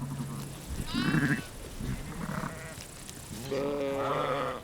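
Sheep and lambs on open pasture bleat repeatedly, several overlapping calls near and clear, with a louder cluster of bleats toward the end and no talk.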